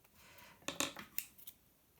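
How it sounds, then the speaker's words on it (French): A few quick, close snips of scissors cutting two layers of DSP patterned paper at once in a short burst, then quiet. "Je découpe les deux en même temps."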